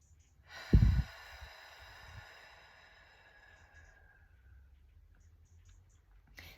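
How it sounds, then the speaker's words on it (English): A woman demonstrating a calming breathing exercise takes a short, sharp sniff through the nose, then lets out a long, slow, hissing breath through pursed lips that fades gradually over several seconds, close up and quiet. "taking in a big breath, a little sniff breath, and then an exhale through pursed lips"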